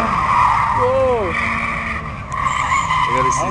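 Drift cars at a race track squeal their tires in wavering skids as one spins out, over a constant engine roar, with a person talking nearby.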